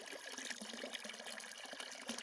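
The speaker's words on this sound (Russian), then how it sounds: "Эта вода уже идет с новой скважины." Water running from a newly drilled borehole well, a soft, continuous splashing trickle, faint and steady, with no voices.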